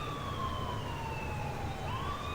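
An ambulance siren wails in a Liberty City police-patrol game, a single slowly falling tone that jumps back up near the end, loud and continuous over low traffic rumble.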